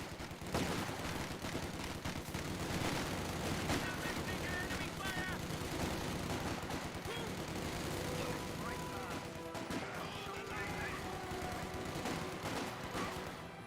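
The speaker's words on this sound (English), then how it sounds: "Infantry squad firing on us!" An infantry squad in the World War II strategy game Company of Heroes 2 fires rapid, dense bursts of rifle and machine-gun fire, with crashes and impacts rolling on continuously at moderate volume.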